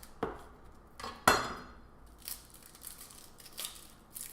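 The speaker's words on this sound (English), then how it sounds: "Go ahead and take the onion in half." Knife cutting an onion in half on a cutting board, a few sharp close chops and knocks against the board separated by short pauses, with quieter handling sounds after.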